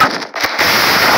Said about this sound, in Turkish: Bombanın sesi değişik.